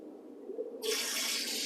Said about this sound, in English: So I'm going to put my unfiltered outdoor faucet water in this